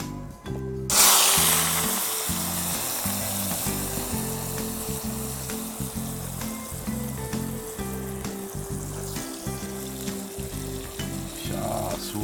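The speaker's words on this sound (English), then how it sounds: "So now the big onions are in. You have to keep it until it's nicely golden" Large Bombay onions fry in a hot pan, giving a loud, steady, close sizzle with crackling, stirring and scraping throughout.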